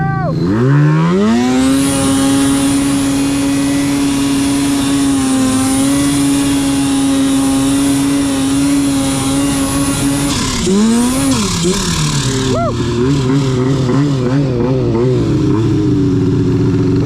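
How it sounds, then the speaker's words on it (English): Turbocharged mountain snowmobiles race at wide-open throttle, one engine roaring loud and close at a steady high pitch before dropping and revving again as other sleds join. "I do feel bad holding my turbo wide open for that long"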